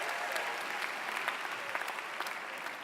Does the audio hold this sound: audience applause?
yes